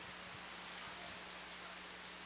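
Rain hisses steadily across an open-air soccer match, an even wash of noise with a faint low hum underneath and no voices.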